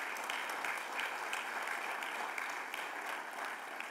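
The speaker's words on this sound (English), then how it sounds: "Give them all a big round of applause." Applause from an audience at a Capitol Hill evening event, a steady fairly faint patter of clapping hands lasting the whole stretch with no talk over it.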